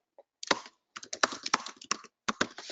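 Fast bursts of typing on a computer keyboard, close and fairly quiet, with short pauses between runs of keystrokes and no talking.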